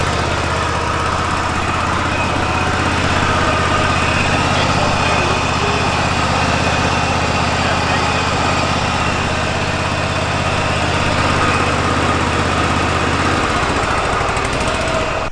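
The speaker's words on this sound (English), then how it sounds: "I'm going to go ahead and start the mower up, and we'll turn the blades on" An Exmark lawn mower engine runs loud and steady with its cutting blades engaged, a constant close drone with a slight shift in pitch near the end, no talking.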